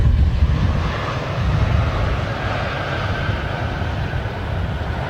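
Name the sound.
Saudi Arabian Airlines Boeing 787 Dreamliner inbound at Heathrow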